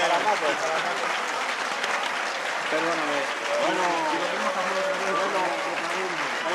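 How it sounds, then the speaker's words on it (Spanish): At a PCPV party rally, crowd applause rumbles along beneath someone speaking close to the microphone, the clapping steady and even throughout. "Aplauso para Paco, para Paco."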